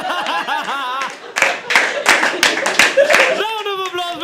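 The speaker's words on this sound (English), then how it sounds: "Round of applause for everybody that played this game" Clapping from an audience at a live poetry open mic, a run of claps rising and falling over about four seconds with voices and laughter mixed in.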